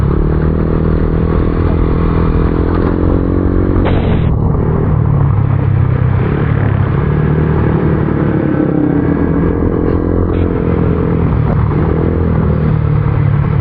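Motorcycles ride a rough, potholed road on a long trip, giving a constant loud engine rumble mixed with clattering and scraping over bumps, with no voices.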